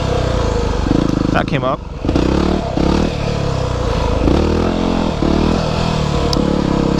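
A Yamaha WR250R dual-sport motorcycle roars loud and close while ridden through wheelies, its engine droning steadily with repeated surges in pitch, plus a short scraping clatter, under brief talk from the rider.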